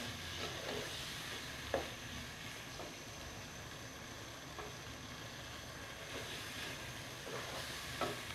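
Chickpeas and soya fry steadily in a pot, giving a continuous soft sizzle with a few faint scraping knocks from stirring scattered throughout.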